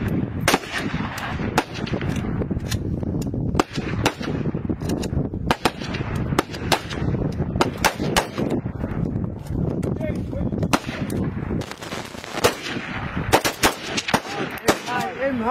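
Rapid bursts of automatic and single-shot gunfire ring out during army special forces training, loud sharp cracks in irregular clusters with brief gaps, dense throughout.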